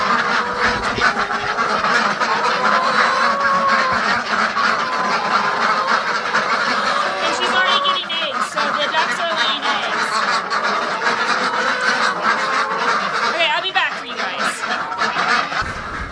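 A flock of ducks quacks continuously nearby, overlapping calls and honks forming a noisy chorus, with a voice briefly mixed in.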